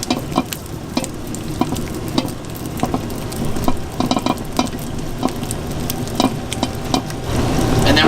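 Butter softening with maple syrup in a pan for maple turkey bacon cupcake frosting, a crackling sizzle broken by frequent sharp clicks and scrapes of stirring, close and steady, with no voices.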